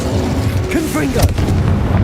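A Confringo blasting spell in Hogwarts Legacy booms with a heavy, rumbling blast amid ongoing game noise, while a brief voice cuts in partway through.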